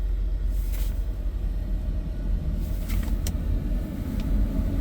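A 2018 Ford police interceptor with an all-wheel-drive twin-turbo EcoBoost engine and about 125,000 miles runs at a steady idle, a close, continuous low rumble with a few faint clicks and knocks on top.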